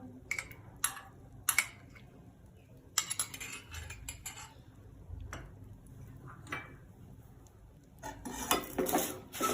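Ragi katla pak mixture with ghee stirred in a pan, giving scraping and clinking of a spatula against the metal, with intermittent clatters and a louder busy stretch at the end.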